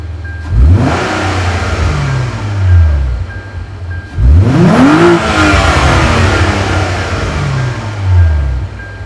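A 2008 Hyundai Tiburon engine is revved twice, close and loud: one rev climbs briefly and drops back, then a longer, harder rev climbs toward redline before falling off to idle. No one talks.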